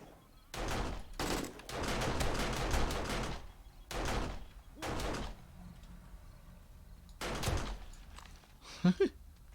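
Automatic turret in 7 Days To Die firing repeated bursts of gunfire, loud bursts separated by pauses over about ten seconds, with a brief sharp pop near the end.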